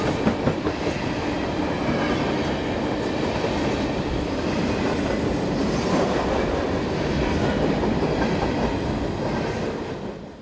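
A CSX freight train led by an SD50-3 locomotive, a 1984 Seaboard System SD50 since rebuilt twice, rolls past a former Atlantic Coast Line station in eastern Virginia, a steady loud rumble with rhythmic wheel clatter throughout, fading slightly at the end.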